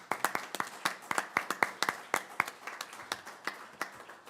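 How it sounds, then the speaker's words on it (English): A small group gives brisk, scattered applause at a city council session. The clapping is dense and steady, fairly quiet and distant, and lasts a few seconds with no talking over it. "I think this deserves a round of applause"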